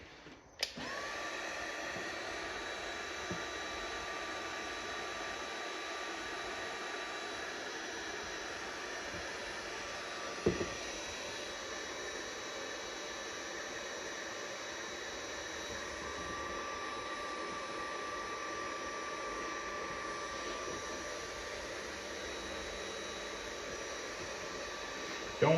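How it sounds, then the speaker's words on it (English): A heat gun blows a steady, even rushing whine at a creased plastic front bumper on a Nissan Altima, running continuously and fairly quietly for the whole stretch with a couple of small clicks and no talk. "So we're gonna put some heat right here."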